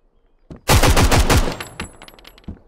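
AK rifle fired in a hardcore survival video game: a loud, rapid burst of about eight close shots in quick succession, followed by fainter scattered clicks and softer impacts as the burst trails off.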